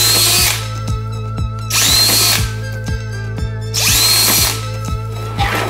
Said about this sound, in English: get a screwdriver with a little drill bit, which is gonna make pilot holes